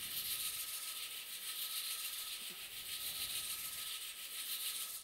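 Steady, even rubbing hiss of dry sandpaper on a turned wooden bowl spinning on the lathe, continuous and close with no speech.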